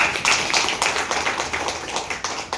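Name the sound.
audience clapping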